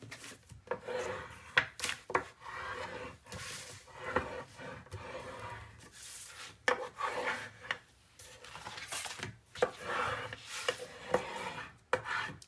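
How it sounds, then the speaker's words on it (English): Paper layers of a 9 x 9 mini album being burnished, heard as close, quiet rubbing and scraping strokes in irregular bursts with short pauses between them. "One more, and then we'll give it all a good burnish."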